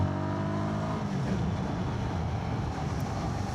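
Royal Enfield Guerrilla 450 motorcycle engine note, steady and loud throughout as the bike is downshifted into a corner, with layered rising and falling harmonics from the single-cylinder engine and wind rush.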